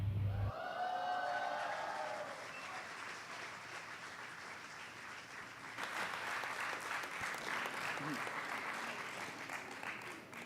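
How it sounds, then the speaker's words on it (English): Large audience at a university fellowship convocation applauds the graduating fellows, sustained dense clapping that swells louder midway and carries on steadily after the end of a film's music. "Another round of applause for the fellows."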